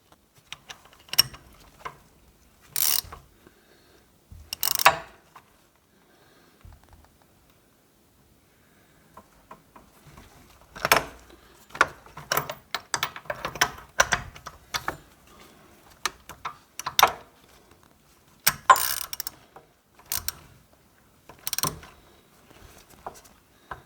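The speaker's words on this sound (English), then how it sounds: "Hence the reason why I'm using a ratchet rather than a torque bar." Ratchet tightening bolts on a 2010 Yamaha XJ6 Diversion S motorcycle during a service, heard as bursts of quick clicking strokes separated by pauses, close and fairly clear with no talking.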